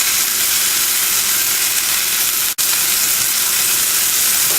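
Beef brisket browning in a hot pan, a loud, dense, continuous sizzle heard close up, with a brief cut in the middle before the steady hiss resumes.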